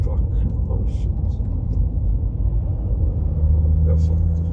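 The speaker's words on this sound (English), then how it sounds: "Let me see if I can perhaps pass this disgusting truck." Steady low road rumble from inside a vehicle overtaking a truck on the road, continuous and fairly loud, with someone talking over it.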